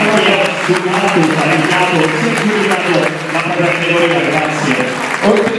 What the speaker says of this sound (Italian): Invitiamo tutti a fare un applauso giustamente.